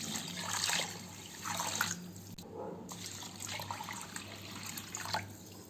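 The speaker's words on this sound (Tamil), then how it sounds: "நம்ம 5 கப் ரைஸ், 1 கிலோ ரைஸ் ஒரு 3 டைம் வாஷ் பண்ணி எடுத்துக்கோங்க." Rice, about a kilogram, being rinsed by hand in water for biryani, with steady splashing and sloshing from a tap or basin close by, uninterrupted and no voices.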